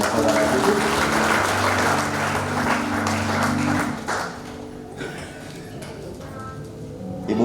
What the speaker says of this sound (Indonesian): kita berikan tepuk tangan sembari saudara duduk